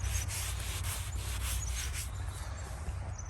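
Clump of snow rubbed by hand against a gravestone in a cemetery, a steady close scraping and swishing friction that continues throughout with low background rumble.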